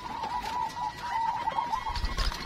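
Zebra dove (perkutut) kept by a breeder, soft rolling coos repeating steadily close by over faint background noise.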